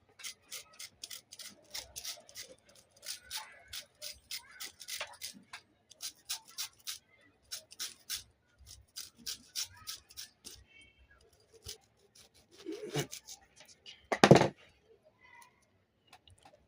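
Zest is grated from a lemon in a kitchen, heard as a quick run of short rhythmic scraping strokes close by, followed by a brief rustle and a louder knock near the end.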